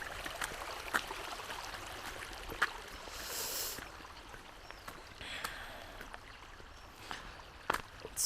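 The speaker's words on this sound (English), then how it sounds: "So this is the river by the road." A river flows beside a mountain road in Mongolia, giving a steady broadband wash of moving water with faint scattered splashes and ticks, moderately quiet and continuous throughout.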